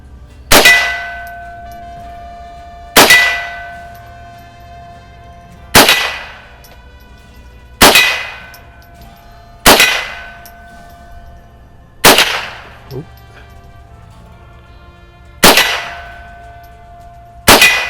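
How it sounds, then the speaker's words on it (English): Bullets from an Erma Werke EM122 .22 rifle striking a swinging steel gong: seven sharp metallic clangs at roughly two-to-three-second intervals, each ringing briefly before decaying, loud and without talk. "I got the gong swinging a little bit,"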